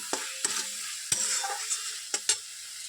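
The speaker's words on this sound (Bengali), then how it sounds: "দেখুন মশলাটা কষানো হয়ে এসছে।" A spatula scrapes and stirs spice paste sizzling in a pan for a katla fish curry, with several sharp clanks against the metal over a soft, steady frying hiss.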